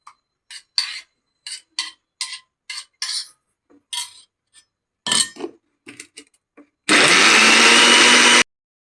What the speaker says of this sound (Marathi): याला आपण मिक्सरमध्ये वाटून घेऊया